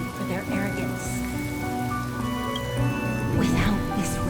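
Rain falls steadily in a Honkai Star Rail scene, a dense patter of drops under a low ambient bed with faint musical tones, close and continuous, with a brief louder splash near the end.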